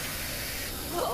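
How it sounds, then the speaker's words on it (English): A steady, broadband hiss of sleeping spray from a Mob Psycho 100 animation scene runs through the whole moment at moderate level, with voices faintly present near the end. "Sleeping spray!"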